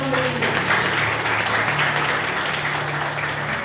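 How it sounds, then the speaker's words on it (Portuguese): An audience in a church applauds steadily and fairly loudly, a dense continuous wash of clapping with faint talk underneath. "Aplauda bem forte nós temos."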